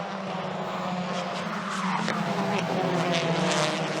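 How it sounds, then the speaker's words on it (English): A loud, roaring TCR Australia touring car engine with harsh tyre squeal and skidding noise, sustained and close, with a faint commentary voice underneath. "listen for the tyres"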